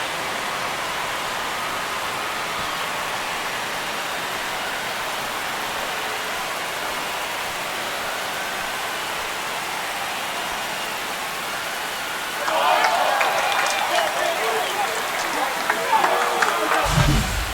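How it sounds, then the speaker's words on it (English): A loud, steady crowd roar fills a college baseball stadium, Notre Dame at Miami, swelling noticeably near the end with cheering and clapping after a home run, a commentator's voice faintly under it. "This crowd has really come alive. This place is loud."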